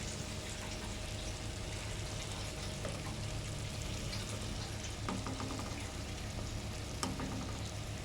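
Quinoa hits a hot pan for palak quinoa kichidi and sizzles steadily throughout, a dense, even frying hiss with a few faint clinks and stirring taps near the end; no one talks.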